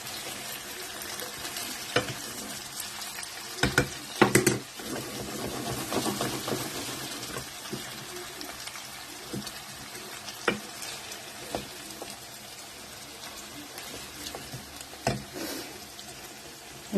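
Green beans and mushrooms are stirred in a frying pan, giving a soft continuous sizzle broken by irregular scraping knocks and clatters of the utensil against the pan.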